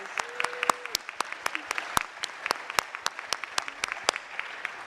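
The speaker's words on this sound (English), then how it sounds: "Please give a round of applause." A small audience at a school prize day gives a round of applause, a sparse, uneven patter of individual claps that sounds fairly close and open rather than a dense roar, with a brief faint tone in the background early on.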